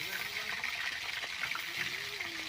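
Onions frying in heating oil in a kadai give off a soft, steady sizzle with faint stirring and no talk over it.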